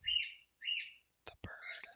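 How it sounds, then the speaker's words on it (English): A small bird gives two short, high chirps, close and fairly loud. Brief clicks and a softer twittering flourish follow. "The bird."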